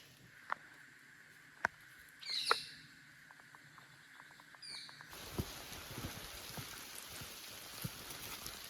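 Rain falls on an outdoor trekking trail in Tamil Nadu, starting as scattered drips and light knocks and then becoming a steady, dense patter partway through, close around the listener and with no talking.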